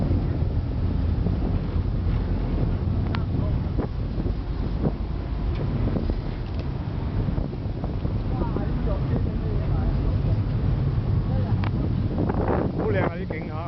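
A ferry cruises on the water during a Mid-Autumn harbour trip, a low continuous engine rumble mixed with heavy wind buffeting on the microphone, while people talk nearby.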